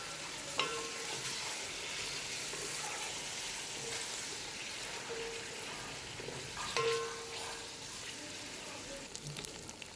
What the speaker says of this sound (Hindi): गोश्त डाल के गोश्त को थोड़ा सा फ्राई कर लेंगे, इससे इसका खूबसूरत सा कलर बन जाएगा।